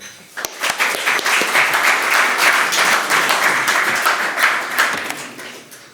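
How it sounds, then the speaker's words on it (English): Warm applause from a conference audience welcoming a speaker: a thick, sustained roar of many clapping hands that swells quickly after a few scattered early claps and fades slightly at the end. "Please welcome with warm applause Titus Gebel."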